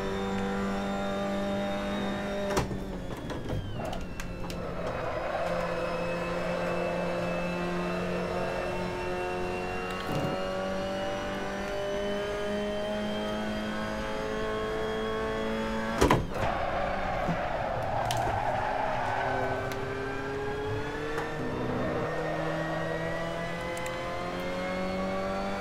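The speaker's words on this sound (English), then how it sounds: "I'm over revving it because I was trying to turn off traction control." A race car engine in a racing video game at Silverstone drones at high, sustained revs, its pitch climbing and shifting with gear changes and brief clicks, steady and loud throughout with no talking.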